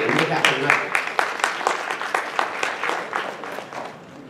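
An audience at a Telugu avadhanam anniversary convention breaks into steady applause, a dense close patter of clapping that slowly eases off.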